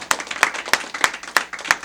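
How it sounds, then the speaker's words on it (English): A small studio audience on a local TV talk show claps out the end of the broadcast, about six distinct, evenly spaced sharp claps, close and clear. "Y'all clap us out,"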